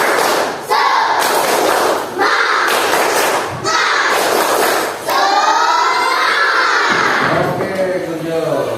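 A classroom group does the tepuk semangat clapping chant together, loud rhythmic bursts of claps and shouted voices in several rounds, with children's voices rising into a sustained cheer near the end.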